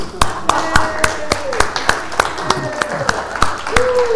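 Church congregation applauding at the Center for Spiritual Living Los Angeles, a room of sharp, evenly spaced claps in a steady rhythm, loud and close, with a voice speaking over the clapping.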